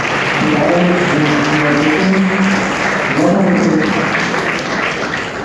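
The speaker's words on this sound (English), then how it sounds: "I request all the audience, please give a big round of applause." An audience at a student medical seminar applauds in a loud, steady wash of clapping, while voices and a few tonal sounds carry over it at points.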